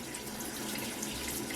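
Warm water runs steadily from a tap onto a white towel, a continuous close splashing hiss with no pauses and no voices.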